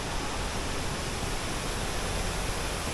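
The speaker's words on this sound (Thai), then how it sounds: "เป็นลำธารธรรมชาตินะนี่ ด้าน หลัง พื้นที่สวยงามครับเหมือนน้ำตกเลย" A natural stream tumbles like a small waterfall behind a scenic spot in Ranong, Thailand, a steady, dense wash of rushing water with no voices over it.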